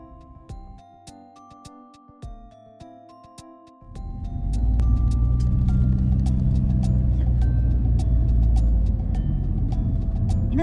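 A car driven at about 40 km/h on a road gives a loud, steady low rumble and road noise starting partway through, following a quieter opening of chiming tones.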